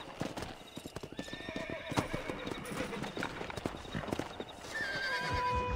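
A video game horse clip-clops along at a steady pace and then neighs, heard close with rhythmic hoof beats over a busy background.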